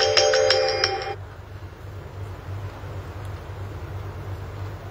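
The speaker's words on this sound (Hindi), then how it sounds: "थोड़ा फोन आ गया था।" A phone ringtone for an incoming call sounds loud and clear for about a second, then cuts off, leaving a low steady hum.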